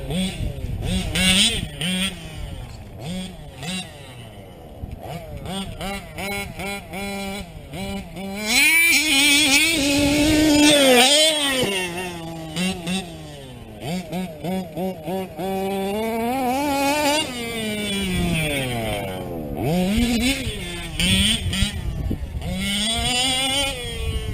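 A modded TLR 5B RC car with a nitro engine and an OBR 34SS reed engine screams at full throttle up a hill, its pitch rising and falling in repeated revving bursts, close and loud, with no speech.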